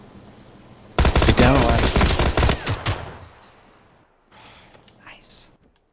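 Rapid bursts of gunfire in the PUBG video game, loud and dense for about three seconds and then tapering off, with brief speech under the shots and a few quieter sounds after.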